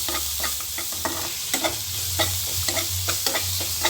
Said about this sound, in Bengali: একটু নাড়াচাড়া করব, ভালো করে মিক্স করে নেব।